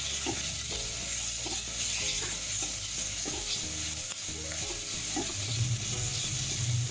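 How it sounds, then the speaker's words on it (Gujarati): Grated carrot for a Gujarati sambharo is sautéed and stirred in a pan, with a constant hissing sizzle beneath rhythmic scraping and tapping of a spoon against the pan, and no talking. "અને હલાવવાનું છે, આવી રીતે આમ સાતળવાનું છે."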